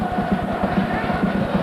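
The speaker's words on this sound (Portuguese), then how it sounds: "1-0 para o Nagoya, que tem a sua torcida gritando" Nagoya Grampus supporters chant and shout in rhythmic pulses inside a stadium during a 1994 Japanese league match against Jubilo Iwata, a loud, close, steady crowd roar.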